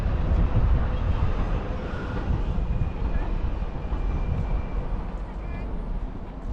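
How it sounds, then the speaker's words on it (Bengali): A driverless electric DLR train passes in London, a loud, continuous low rumble of wheels and motors close by, with a person talking over it. "এটা হচ্ছে ট্রেন ডিএলআর বলে এটাকে"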